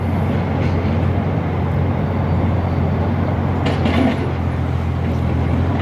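A train runs past with a steady, continuous low rumble and hum that stays even throughout, with brief hissing accents midway.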